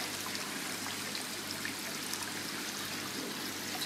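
Water trickling through a small rock waterfall aquarium at night, a steady, even splashing wash with no pauses, close and moderately loud, nothing else heard.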